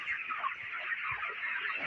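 Chickens cluck in a crowded poultry market stall, a dense, fairly faint chatter of many birds with a few short low calls standing out.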